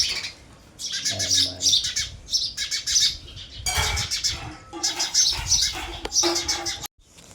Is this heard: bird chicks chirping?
yes